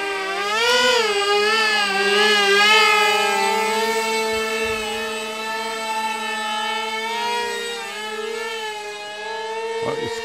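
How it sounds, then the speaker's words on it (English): Electric motor of a small backyard RC model plane flying in gusty weather, a steady whining tone that rises and falls slightly in pitch as the plane passes, continuous and fairly close with no talking. "This is actually a backyard plane instead of a park jet."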